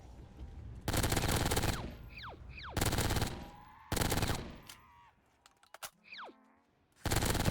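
Bursts of rapid automatic fire from the Spitfire gun in a zombies-mode shooter video game, loud and close. Several sustained volleys are separated by gaps with whooshing game effects.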